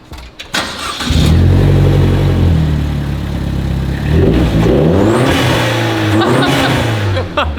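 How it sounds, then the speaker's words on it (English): Turbocharged 220-horsepower automatic Ferrari engine revving hard after a short start, the rising and falling engine note loud and close, with a turbo wastegate hiss over it. "And listen to the wastegate on this thing."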